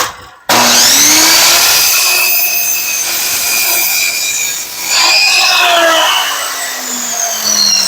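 A miter saw cuts wood for a half-lap X joint in farmhouse furniture, starting abruptly with a loud, steady whining motor roar and a harsh blade-through-wood rasp that dips briefly midway, close and alone.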